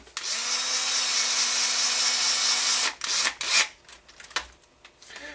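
A power drill whines steadily for about three seconds while driving long screws into a Turtle Racing rear transmission plate, then gives several short bursts and ratcheting rubs as the screws seat; close and loud.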